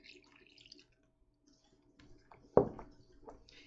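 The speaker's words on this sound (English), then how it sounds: "I'm gonna go ahead and pour our milk in" Milk is poured into a bowl of buttermilk biscuit dough, making one short, sharp splash at close range. A few faint clicks and soft, wet sounds come before and after it.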